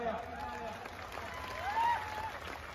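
Crowd applause rises faintly from the distance at an open-air kusti wrestling ground during a bout between Sikandar Shaikh and Vikrant Kumar, sitting beneath a nearby voice that talks over it.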